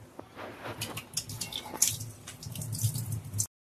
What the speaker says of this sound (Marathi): सर्वात आधी आपण कोथिंबीर धुवून घेऊया।